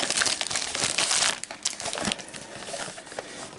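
Cardboard and plastic packaging of a Pokemon Mystery Power box crinkling and crumpling as it is opened, a dense, close run of crackling rustles that eases off toward the end.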